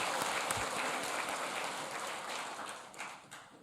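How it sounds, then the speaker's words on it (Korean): A church congregation applauding together, a steady wash of many hands clapping at moderate distance that slowly thins out toward the end. "다시 한번 큰 박수로 우리 하나님 앞에 영광을 함께 돌리겠습니다"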